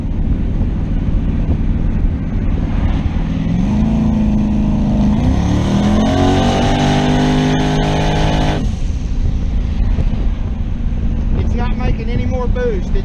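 A turbocharged car with a Holley EFI setup pulls hard in third gear, its engine note rising steadily through the revs before backing off, with constant wind and road rumble and some speech over it.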